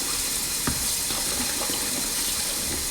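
Tap water runs steadily over turkey legs being rinsed in a sink after a vinegar-and-water soak, a continuous close splashing wash with a few brief louder splashes.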